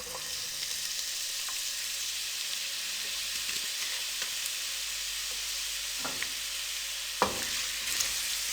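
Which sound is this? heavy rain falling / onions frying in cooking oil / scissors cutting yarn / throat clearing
onions frying in cooking oil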